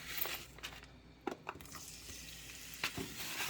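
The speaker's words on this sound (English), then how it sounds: "Now it's time to saute." Food sautéing in a pan for kilayin, a Kapampangan dish, with a soft, steady sizzle broken by a few sharp clicks and scrapes of stirring.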